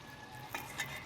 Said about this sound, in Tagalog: Tapos may piniprito pa doon, no?